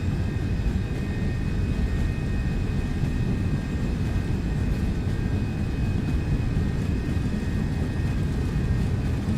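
Jet engines of an MD-11F roar in a steady, dense broadband rumble during the takeoff roll in the X-Plane 12 flight simulator, loud and continuous with no speech.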